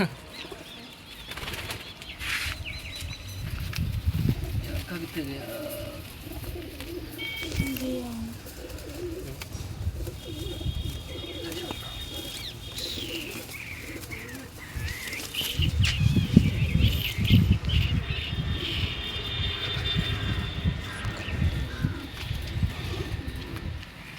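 A jarda pigeon with painted colouring coos in low rolling bursts among wing flaps and other pigeon sounds, while people talk on and off nearby.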